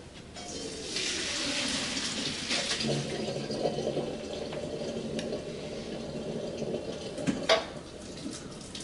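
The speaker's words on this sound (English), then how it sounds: "And I'm going to strain it in a colander at the sink." Cooked pasta and its water pour into a colander at a kitchen sink, making a steady rushing splash that runs throughout, with a few metallic clanks near the end.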